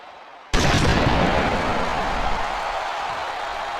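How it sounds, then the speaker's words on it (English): A huge Batista bomb slam in WWE Smackdown vs Raw 2008 hits with one sudden loud broadband impact, followed by a sustained roaring crowd-like wash that stays heavy and dense to the end. "What a huge Batista bomb."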